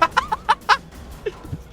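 Chickens clucking in a video game, a quick run of several sharp clucks followed by a few softer, lower clucks, close and clear with no talking.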